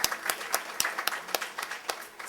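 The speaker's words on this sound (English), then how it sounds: "Give him a round of applause." A modest audience at a SEEK Program graduation gala gives a former counselor a quiet round of applause, with scattered, separate claps in an uneven rhythm at a fairly low, distant level.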